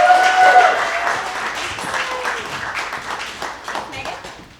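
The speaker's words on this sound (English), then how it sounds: "please give a big round of applause for Mon" An audience at a creative workshop event claps together, the applause loudest at the start and slowly thinning out, with a few voices rising faintly through it.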